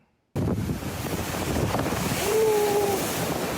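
Large ocean waves, seven to eight metres high, surge and crash during a typhoon's strong winds off southern Taiwan near Xiaoliuqiu, a continuous roaring wash of surf and wind that starts abruptly and stays loud.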